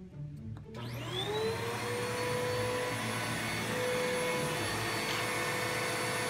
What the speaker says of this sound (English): And you can see the vacuum running.